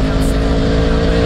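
Steady, loud engine roar from a 2011 Yamaha R1 motorcycle fitted with a Yoshimura straight-through exhaust with no catalytic converter, heard close with a deep rumble throughout.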